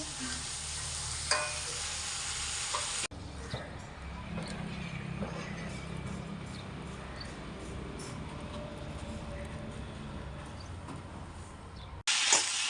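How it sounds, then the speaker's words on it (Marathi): Noodles sizzling steadily in a hot pan while being stirred, a continuous frying hiss with faint scraping, heard close and alone for most of the stretch. "मग आता काही हे फ्राय करून घेशील, चांगलं शिजू देशील"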